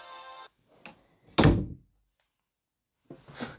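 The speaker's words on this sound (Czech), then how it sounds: "Dveře tady práskly" A door slams shut in strong wind with one loud, heavy thud, preceded and followed by faint voice sounds and quiet gaps.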